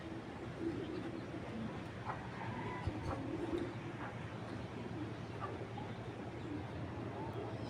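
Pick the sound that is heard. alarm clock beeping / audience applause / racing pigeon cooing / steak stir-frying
racing pigeon cooing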